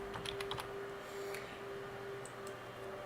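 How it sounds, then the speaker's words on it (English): Soft, quick tapping of keys on a computer keyboard during an office software session, faint clustered clicks over a steady electrical hum, no talking. "So you would type in info Dr. Smash,"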